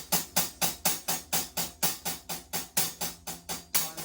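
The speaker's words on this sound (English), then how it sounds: "if you're just playing normal 16th notes without any swing in them, they'll sound like this." Drum kit playing straight, evenly spaced 16th notes with no swing, a steady run of about sixteen crisp, bright hits over four seconds, close and alone.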